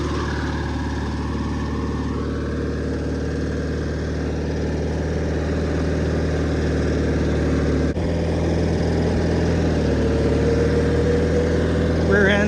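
A John Deere 316 lawn tractor drives along with a steady, loud engine drone throughout, a slightly noisy rear end adding to the mechanical hum, and a brief knock partway through.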